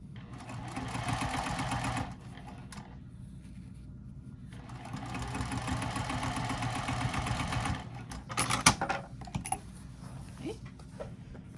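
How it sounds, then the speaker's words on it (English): A sewing machine stitching a pouch seam hums in two sustained runs with a fast mechanical clatter, fairly quiet and close, followed by a few sharp clicks as it stops. "As long as you're keeping it in front of the presser foot, you don't have to worry about stitching over it."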